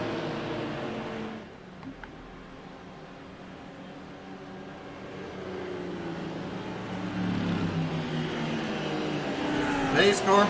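GT3 race cars roll behind a pace car at Road Atlanta, their engines droning and building as they pass at a distance, under ongoing commentary.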